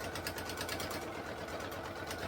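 A sewing machine back stitching through several stacked fabric layers for a beginner purse, running as a steady, fast mechanical whir close by with no pauses and no talk.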